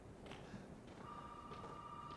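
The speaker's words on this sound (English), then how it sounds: "Phone's ringing." A telephone rings faintly in Resident Evil 7 Biohazard, a thin steady tone over quiet background noise.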